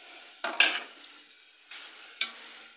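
Carrot halwa roasted in ghee at a Pakistani street food stall in Islamabad, a utensil scraping and clanking against a large pan in a few separate strokes over a quiet sizzle, close and with no talk.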